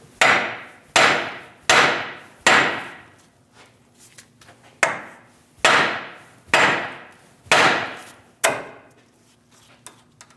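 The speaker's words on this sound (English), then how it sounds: "Give the knuckle a little hit right here." A hammer strikes a steel steering knuckle on a 2001-2006 Chevrolet Silverado 2500 HD to free the tie rod end, giving nine sharp, ringing metallic blows at a steady pace. Each hit is close, loud and quickly decaying.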